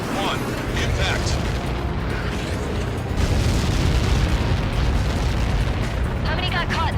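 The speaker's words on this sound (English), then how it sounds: "How many got caught in that explosion?" A massive explosion impact in the flight combat game Ace Combat 7 produces a loud, sustained booming rumble that swells midway and keeps roaring, with radio voices talking over it.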